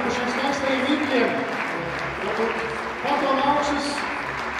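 Sustained audience applause fills a Latvian concert hall at a choir anniversary concert, a dense steady wash of clapping that swells slightly midway and continues throughout.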